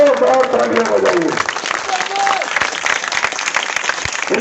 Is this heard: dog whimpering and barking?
no